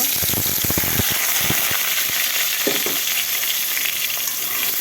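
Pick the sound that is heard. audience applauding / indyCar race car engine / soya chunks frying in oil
soya chunks frying in oil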